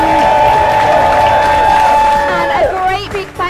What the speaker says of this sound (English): Big round of applause, please, for all these gorgeous guests.